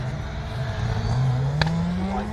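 A GTM rally car engine drones past on the 2015 Jack Frost Rally stage with a steadily rising pitch, loud and close, with a brief sharp crack midway.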